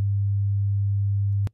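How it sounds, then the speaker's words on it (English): A 100 hertz sine wave test tone generated in Audacity plays back as a loud, steady low hum, unbroken and pure, cutting off abruptly at the end. "That's a 100 hertz sine wave."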